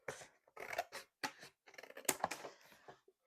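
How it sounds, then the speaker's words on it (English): Scissors cut a triangle of paper off a sketchbook page, a string of close, crisp snipping bursts with short pauses between the strokes. "And we are going to cut off"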